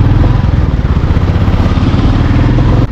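Motorcycle riding on a cold morning along a road near Pune toward Tamhini Ghat, the engine droning loud and steady close up, mixed with heavy wind rush, without pause throughout.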